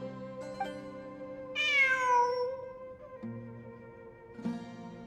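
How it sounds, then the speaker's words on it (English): A cat in Genshin Impact gives one clear, rising and falling meow, near and fairly loud, set against a soft, steady musical background with no talk. "I'm not hearing things. It really is a cat."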